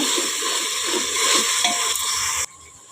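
Chopped tomatoes sizzle steadily in a hot pan for paneer kuska, a close, continuous frying hiss with faint stirring, cutting off abruptly near the end.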